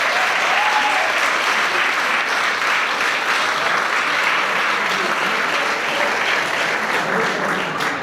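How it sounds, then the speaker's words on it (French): Loud, sustained applause from a large audience at the launch of the 20th Relay for Life in the MRC de l'Érable, dense clapping that holds steady for several seconds with a faint voice buried underneath. "j'aimerais qu'on s'applaudisse"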